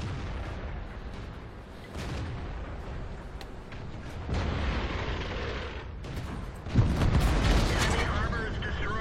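An enemy armored vehicle blows up in a war video game: heavy, rumbling booms and gunfire-like crackle fill the mix, with one sharper blast standing out late.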